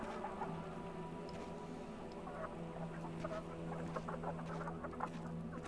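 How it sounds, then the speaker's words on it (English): Chickens clucking in the video game Black The Fall, a steady close layer of fowl calls and chatter carrying on throughout over a low constant background hum. "It's a chicken."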